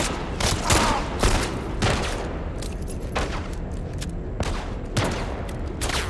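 Gunfire from The Last of Us Part 1 on PS5: sharp shots in irregular bursts, several close together, loud over a dense rumbling game soundscape with no talking.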